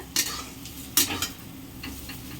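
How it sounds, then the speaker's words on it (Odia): Mustard seeds and cumin hitting hot oil in a kadai give a soft, steady sizzle, broken by two sharp clattering stirs near the start and a few lighter scrapes later. "ବର୍ତ୍ତମାନ କିଛି ସୋରିଷ ଦେଇ ଦେଇଛି ଅଳ୍ପ ଏବଂ ଜିରା କିଛି ଦେଇଛି।"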